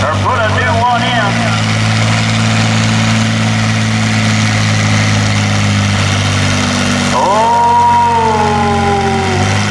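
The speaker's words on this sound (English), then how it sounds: "I believe he's got a diesel engine in there again." Diesel engine of an Oliver 1650 farm stock tractor at an 8000 lb tractor pull, a loud steady drone that shifts pitch as it revs, with speech faintly underneath.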